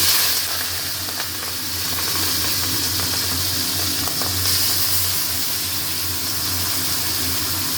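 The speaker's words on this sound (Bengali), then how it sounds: "তেল গরম হয়ে গেছে চিংড়ি মাছ ছেড়ে দিই" Shrimp dropped into hot oil give a steady, close hiss and sizzle of frying that continues without a break, with no voices.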